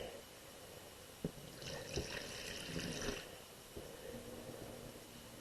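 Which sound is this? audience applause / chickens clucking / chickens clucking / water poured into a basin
water poured into a basin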